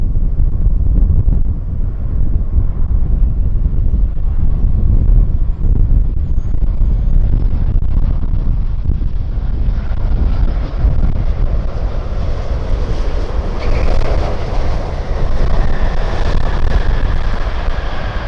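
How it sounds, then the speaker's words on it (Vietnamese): A Boeing 787 Dreamliner lands in strong wind: a loud, deep, broad roar of engines and buffeting wind rumbles continuously, and a higher whine builds toward the end. "mời mọi người chiêm ngưỡng và hạ cánh của chiếc Boeing 7870 Dreamliner này nha"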